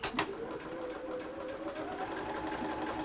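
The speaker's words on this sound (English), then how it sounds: "I forget this one does a lock stitch." A sewing machine runs a lock stitch in one continuous close mechanical whir, steady and fairly quiet, with no voices.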